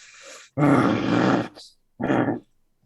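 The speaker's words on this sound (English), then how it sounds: "all you hear is growls and snaps and snarls." A transforming beast lets out loud, close, guttural growls and snarls in two harsh bursts separated by silence.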